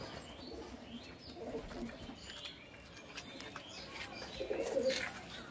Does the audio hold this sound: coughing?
no